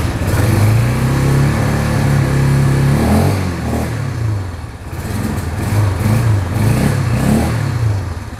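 A BIG ATV 200 Hammer Pro with automatic transmission starts and its engine revs loudly nearby, rising and falling in repeated throttle blips over a steady idle.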